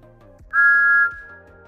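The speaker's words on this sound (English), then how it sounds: "A different take of Thomas's whistle blowing is used here." Thomas the Tank Engine's steam whistle gives a single clear, steady shrill blast of about half a second, rising abruptly and cutting off cleanly over a faint background.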